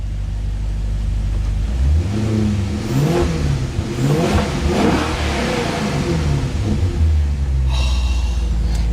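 Maserati Quattroporte S with straight pipes, its engine revved repeatedly in loud, close bursts that swell and fall with a deep rumbling exhaust note, followed by a brief higher-pitched burble near the end.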